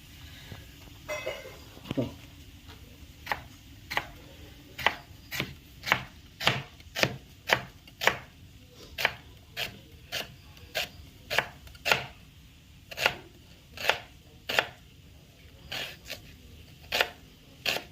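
Half an onion being finely chopped on a board for a Kerala chicken perattu, about twenty crisp, evenly spaced knife strikes, close and clear over a quiet room.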